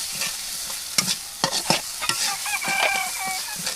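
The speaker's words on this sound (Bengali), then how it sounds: "মশলাগুলো কিন্তু খুব সুন্দরভাবে একটু ভেজে নিই" Spices and turmeric powder frying in a pan on a village clay stove, a close, steady sizzle broken by sharp stirring scrapes, with a rooster crowing faintly in the distance.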